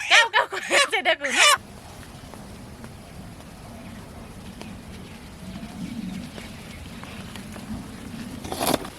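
A village chicken clucks loudly and rapidly at close range for about a second and a half, then a long quiet stretch of faint outdoor background follows before a short squawk at the end.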